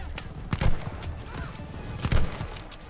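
Dense battlefield gunfire from the Vanguard campaign, with irregular bursts of shots and heavier booms at a moderate distance under a constant, noisy combat din.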